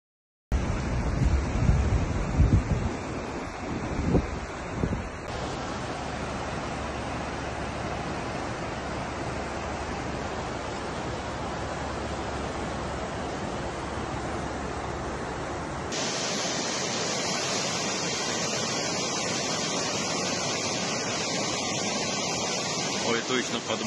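Strong flood water in Russia's Far East roars as a dense, continuous rush, loud and close, with heavy wind buffeting on the microphone and a few abrupt changes in tone partway through.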